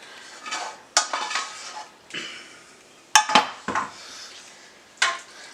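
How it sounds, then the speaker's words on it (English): Tamale pie mixture is scraped and poured into a casserole dish, heard as a close series of sharp utensil clinks and scrapes on the dish separated by short pauses. "we're going to pour it into our pan. I have a casserole dish here."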